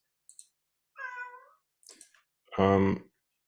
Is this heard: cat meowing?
yes